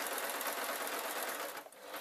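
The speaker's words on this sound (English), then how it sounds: "I'll just let the sewing machine sew this bit." A sewing machine stitching fabric bunting runs steadily at speed, its rapid whirring stitch rhythm close and continuous, briefly slowing near the end.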